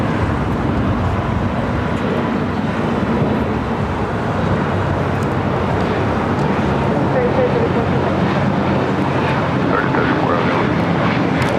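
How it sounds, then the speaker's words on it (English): An Antonov AN-124 cargo jet idles its engines at LAX while waiting for takeoff, a loud, steady roar that continues throughout with a voice talking over it. "Antonov AN-124, waiting for takeoff"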